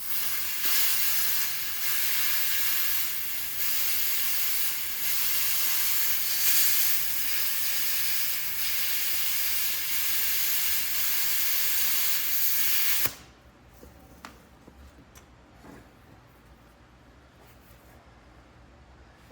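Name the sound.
hissing nozzle on a tool that works poorly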